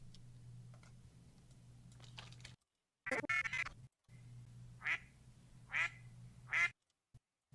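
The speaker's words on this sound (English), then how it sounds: "Duck sounds for kids." Duck quacking sound effects: four short, clear quacks in separate bursts, each followed by a brief gap. A low steady hum sits under the first part, and no one speaks.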